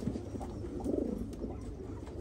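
Akbaş pigeons, a ready-paired couple, one blue and one red, coo in low, soft, throaty bursts close by over a steady background hum, with no talk.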